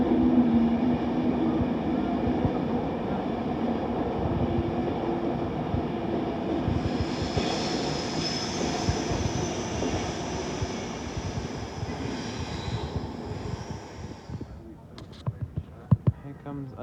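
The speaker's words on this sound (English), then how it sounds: "Here comes another Avanti West Coast Class 390" An Avanti West Coast Class 390 electric train passes at Primrose Hill, a steady loud rolling rumble with rising wheel and motor noise mid-pass before fading after about fourteen seconds, with a voice talking over it.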